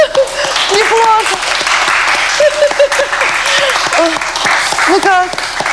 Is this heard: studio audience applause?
yes